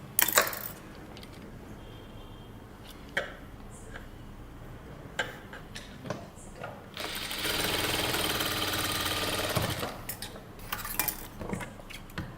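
A sewing machine stitches two kurta pieces together in one sustained run of a few seconds, preceded and followed by sharp clicks and handling taps of fabric and machine parts.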